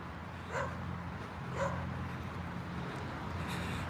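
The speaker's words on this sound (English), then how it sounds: "Doggy very happy to see me back there. Letting me know hi." During an evening street walk, a happy dog gives two short greeting barks with a whimpering edge, spaced about a second apart and somewhat distant, over a low background hum.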